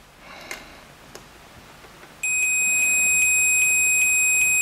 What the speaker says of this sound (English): And we have audio cable here, which is working, so this should beep.